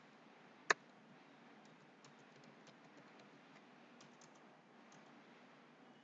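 A computer keyboard being typed on while a C++ hello world program is written, with one sharp loud click near the start followed by sparse, faint key taps over a low steady room hiss.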